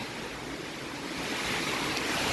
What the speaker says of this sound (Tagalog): Upas ang hangin.